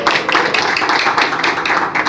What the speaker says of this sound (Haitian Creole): faites-moi sentir ça par un beau applaudissement